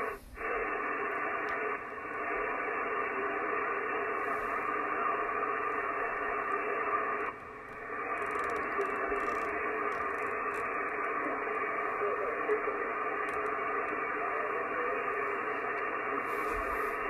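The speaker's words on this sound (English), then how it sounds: "that's just the ICOM without the antenna. That's that inherent amplifier noise" Steady hiss of inherent amplifier noise from an Icom IC-7300 receiver with no antenna connected, a constant broadband rush that runs alone for the whole stretch, with a few brief dips.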